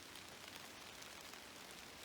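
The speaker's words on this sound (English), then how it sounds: "Oh my god, it's raining so hard." Heavy rain falls steadily in a forest near Vancouver, a dense, even hiss of drops on leaves and ground with no voices, continuous throughout.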